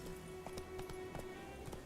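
Roach the horse galloping in The Witcher 3 video game, a quick run of hoof clip-clops over a steady game music and ambient bed, fairly quiet and close.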